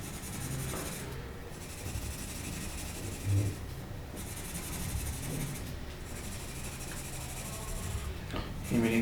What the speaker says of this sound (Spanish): ejerciendo un poco más de presión en el lápiz